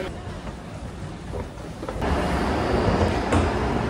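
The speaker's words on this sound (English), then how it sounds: "Look at that train." A train rumbles at Penn Station on 34th Street in Manhattan, a continuous broad low roar with scattered clanks that swells louder partway through, heard close in a large echoing underground space.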